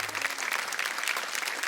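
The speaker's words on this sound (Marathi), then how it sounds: "एकदा जोरदार टाळ्या होऊन जाऊ दे" Loud, sustained applause from a studio audience at a Marathi women's game show, a dense steady clatter of many hands clapping throughout.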